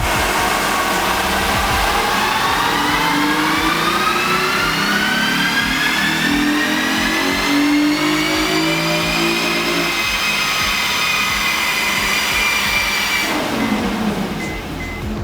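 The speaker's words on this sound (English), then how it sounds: "now that we know what it sounds like and how much horsepower it makes with the stock exhaust" A Honda engine with its stock exhaust winds up through a long, steady rev, droning loudly with a rising whine before easing off near the end; no talking.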